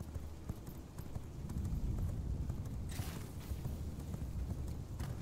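Horse hooves gallop at a fast, even clip-clop rhythm in the vampire survival game V Rising, fairly faint, with a whooshing burst partway through.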